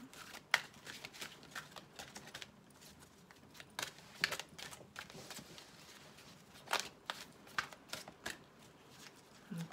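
Oracle cards, a romantic angels deck, are shuffled by hand in repeated soft riffling bursts and taps at close range, fairly quiet, with no talking.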